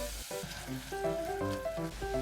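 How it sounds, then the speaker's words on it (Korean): Beef and soaked seaweed stir-frying in a pot for seaweed soup, giving a soft, continuous sizzle under louder tonal background music. "소고기 볶다가 불린 미역은 넣고 볶는다"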